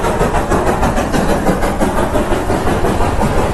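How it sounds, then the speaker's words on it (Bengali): The Darjeeling toy train near Ghum station rumbles with a loud, steady engine drone and mechanical churning, heard close and continuous with no talk. "এই দেখো টয় ট্রেন"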